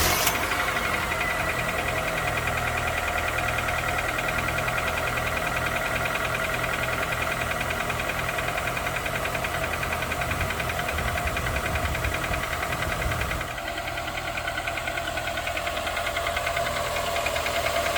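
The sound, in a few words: Honda Accord engine running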